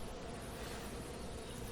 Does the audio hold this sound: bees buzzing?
yes